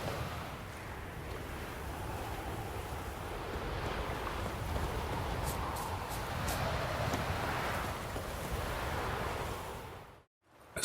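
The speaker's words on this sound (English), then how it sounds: "Winds howling." Wind howls across an open countryside with a stream and fields of grain in the video game Witcher 3: Wild Hunt, a steady low rushing gust heard alone that cuts off abruptly near the end.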